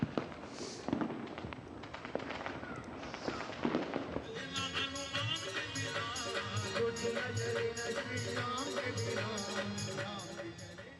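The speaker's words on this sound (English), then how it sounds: "Firecrackers also adorned the skies over Jammu and Kashmir's Poonch as locals celebrated" Firecrackers and fireworks burst at a celebration in Poonch, Jammu and Kashmir, first as scattered loud pops, then a dense, continuous crackling barrage of rapid bangs that keeps going without pause.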